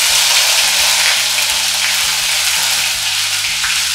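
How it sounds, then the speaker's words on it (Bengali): A whole dried red chilli and torn chilli dropped into hot oil for tempering, crackling in a loud, dense, continuous sizzle under a steady low hum. "একটা গোটা লঙ্কা দিচ্ছি শুকনো লঙ্কা ফোড়নে"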